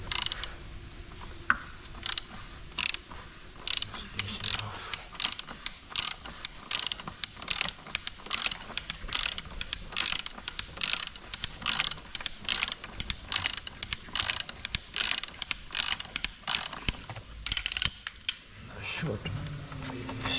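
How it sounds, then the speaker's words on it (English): Ratchet wrench with a 27mm socket loosening the oil filter housing on a BMW N57 3.0 diesel engine in an F31, giving a long series of quick, sharp clicking bursts, close and fairly loud with brief pauses. "So let me open the oil filter. It's a 27mm socket."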